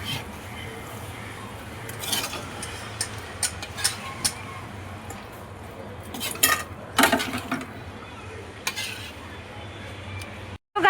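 Spicy pasta stirred in a wok, with repeated metallic scrapes and clinks of a spoon against the pan over a faint steady hum, spaced irregularly with a louder flurry partway through; someone talks in the background.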